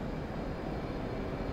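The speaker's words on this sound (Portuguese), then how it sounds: "E você foi lançado do porta-aviões comum." A steady, roaring jet engine rumble from an F/A-18 launched off an aircraft carrier in the DCS flight simulator, continuous and even in loudness throughout.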